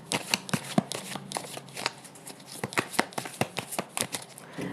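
Tarot cards are shuffled in a quick run of crisp, rapid riffling flutters and soft slaps, close and fairly quiet, with no talking.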